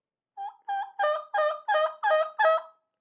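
A mouth reed turkey call blown with the lips closed gives seven clear yelps in a steady, rising rhythm, close and alone, each note short and raspy.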